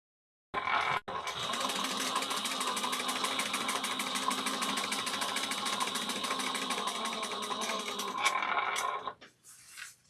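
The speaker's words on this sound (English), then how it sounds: "we're going to sew 1/4 of an inch" A sewing machine runs steadily for about eight seconds, stitching a quarter-inch seam on a fabric bag, with a quick start and a pause near the end; no talking over it.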